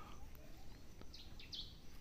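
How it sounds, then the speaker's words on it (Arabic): Faint, scattered bird chirps over a steady low background hum on Nusa Penida island, Indonesia, a few short high calls dotted through the clip. "حسكت أصوات العصافير"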